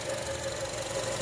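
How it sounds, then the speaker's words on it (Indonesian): A 2009 Honda CR-V third-generation 2.4 automatic engine idles steadily and faintly, with a smooth, even hum and a light mechanical tick running beneath it. "Mesin halus kering, terawat Honda."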